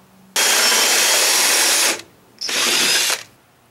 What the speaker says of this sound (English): I'm gonna use a spade bit to drill it out.